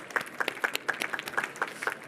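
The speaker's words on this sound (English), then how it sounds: "Big round of applause for our pitchers." Audience at a food and agriculture pitch event applauding the pitchers, a steady patter of many hands clapping, moderately loud and sustained with no talk over it.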